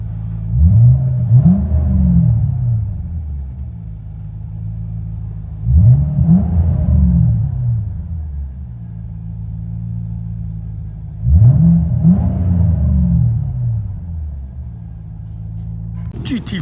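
Supercharged 2009 Ford Mustang Shelby GT500 5.4L V8 with an aftermarket exhaust, heard from inside the cabin as three loud rising revs a few seconds apart, each falling back to a deep rumbling idle.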